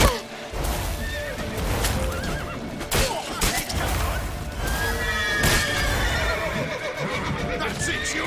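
A horse neighs repeatedly in The Witcher 3, shrill whinnies over galloping hooves, crashes and thumps, with game characters shouting throughout.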